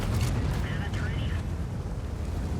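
Heavy 120mm tank gun fire in World of Tanks, a rapid-reloading gun hammering a broadside target: dense, continuous low rumble and booming blasts merge under a speaking voice throughout.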